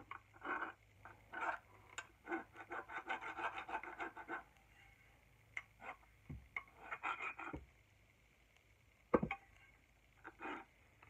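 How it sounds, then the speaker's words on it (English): A rasp files a wooden axe handle, rounding off the wood around the head. Bursts of close, dry rasping strokes come in uneven runs with short pauses and a few knocks, and there is no talk. "So now I'll just take my rasp and then just go around this here"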